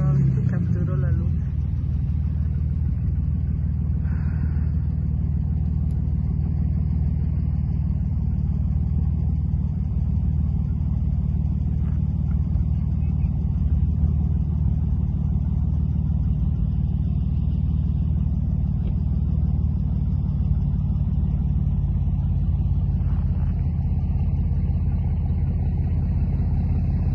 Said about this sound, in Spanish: el ruido de los carros